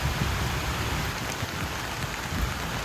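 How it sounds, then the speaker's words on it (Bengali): Heavy rain falls over an open rural landscape, a dense steady wash of drops that keeps an even level with no one talking. "দেখো ওই দূরের দিকে প্রচণ্ড বৃষ্টি আসছে"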